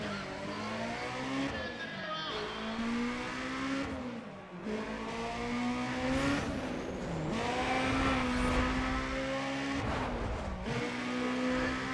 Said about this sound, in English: I love how I hit the rev limiter